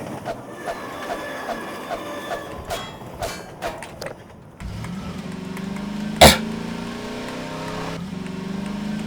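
A train in the Half-Life 2 video game rumbles steadily with rail clatter and a sharp metallic clang near the middle, heard alone without talk.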